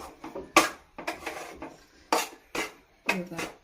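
A spoon stirs rice flour into boiling water in a pan to make ukad dough for modak, giving irregular close scraping clinks and knocks of utensil on metal, about eight strokes with no talk.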